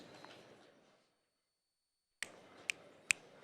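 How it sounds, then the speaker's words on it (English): Three sharp, separate taps of pool cues after a quiet pause, the players' salute to a great shot in a women's professional nine-ball match between Jeanette Lee and Gerda Hofstatter. The cracks are crisp, close and evenly spaced. "And that deserves a little pull clap."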